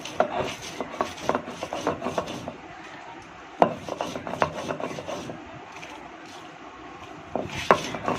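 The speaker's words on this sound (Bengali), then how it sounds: "প্রথমে আমি রসুন আর শুকনা মরিচকে বেটে নেব" Garlic and dried chili are ground on a shil-pata grinding stone, producing rough scraping and knocking strokes in an uneven rhythm, close and clear, with sharper thuds now and then.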